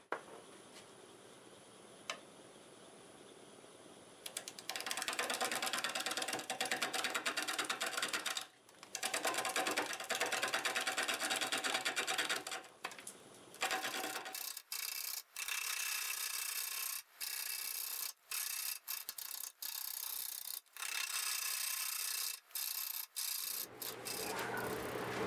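A freshly sharpened 5/8 bowl gouge cuts into a large burl spinning on a wood lathe, producing loud rasping, scraping bursts with rhythmic interruptions and brief gaps as the tool engages and lifts off.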